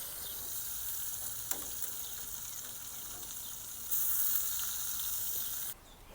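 Bacon fries in a pan with a steady crackling sizzle, rising louder for a couple of seconds before cutting back, along with a few faint taps.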